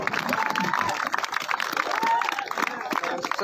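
A crowd at a kabaddi match claps and cheers in a dense, steady roar, with a loud voice and background chatter mixed in.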